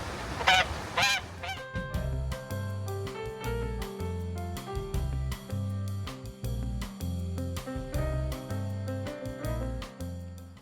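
A goose, kept with chickens somewhere in rural northern Portugal, honks loudly and close at the start, with a strong rhythmic musical backing throughout the rest.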